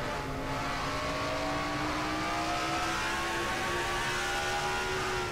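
Race car engine in a NASCAR-style stock car racing video game, heard from onboard: a steady, loud engine drone with rising harmonic pitch as it accelerates, continuous throughout with no talk.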